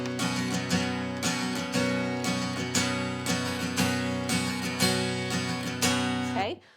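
Steady acoustic guitar strumming from a song lesson, alternating down and up strokes in an even pattern, close and full, ringing out with one final decay.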